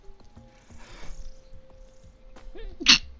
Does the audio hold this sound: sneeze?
yes